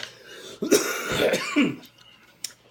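A person coughs and clears their throat in a short burst of three or four rough, close hacks, then trails off into quiet with a faint click near the end.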